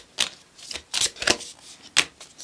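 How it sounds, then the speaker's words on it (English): Tarot cards being shuffled by hand, a few quick riffling bursts of crisp card flutter separated by short pauses, close and fairly quiet with no talking. "That was not a proper shuffle."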